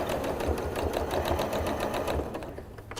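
A sewing machine stitching across the seams of a zipper pouch, its motor whirring continuously with a fast, regular needle rhythm, close and fairly loud, slowing slightly near the end.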